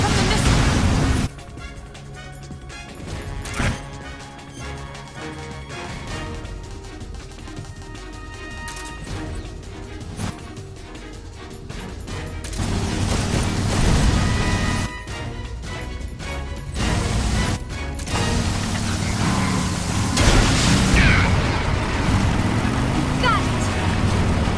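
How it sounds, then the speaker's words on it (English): Missiles blast and crash repeatedly in Metal Gear Solid Delta: Snake Eater, loud booming explosions and debris bursts over a dense game soundscape with an engine-like rumble, with voices talking at times. "Here come the missiles."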